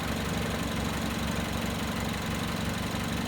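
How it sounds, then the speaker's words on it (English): A Suzuki SX4 car engine idles steadily with its AC compressor engaged, a low, even knocking pulse with a constant mechanical hum, close and moderately quiet, with no voices. "Wait for the compressor to kick in, just for the suction"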